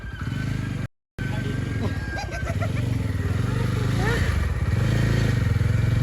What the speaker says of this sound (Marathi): मंडळी आता आशुतोष गाडी चालवते